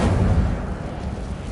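The Incendio fire spell in the Hogwarts Legacy video game gives a roaring, rumbling whoosh that swells loud at first and then fades into a sustained low crackling rush.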